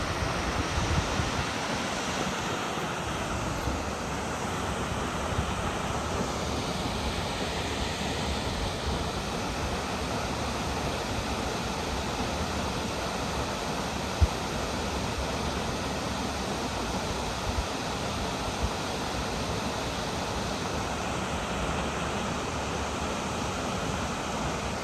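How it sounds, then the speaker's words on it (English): Salt Creek Falls, the second tallest waterfall in Oregon, pours in a steady, dense roar of falling water that holds even and unbroken throughout, with no voices over it. "I'm standing here overlooking Salt Creek Falls here in Central Oregon. It's the second tallest waterfall in the entire state of Oregon."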